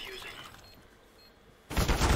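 After a quiet, murky stretch, a sudden loud burst of rapid gunfire erupts and keeps crackling to the end.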